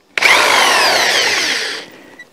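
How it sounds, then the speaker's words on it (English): A power drill bores straight through a timber rafter for a dovetail log cabin, one steady loud whining burst of about two seconds with a sharp start and a fading tail, no talk. "I want to make sure that I drill right straight through and come out as close to this point as possible"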